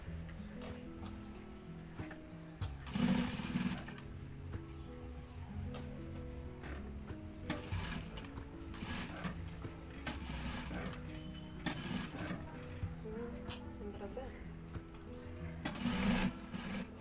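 A sewing machine stitching piping on the inside of a blouse hums and whirs steadily at close range, with short louder bursts of faster stitching near the start and end.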